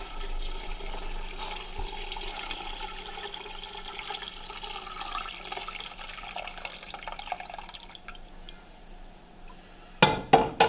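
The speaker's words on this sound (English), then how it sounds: "So now I'm adding my crab stock. I gotta go real slow. I'm just straining the stock." Crab stock strained and poured slowly into a gluten-free flour roux makes a steady liquid trickle and splash throughout, with a few sharp knocks near the end.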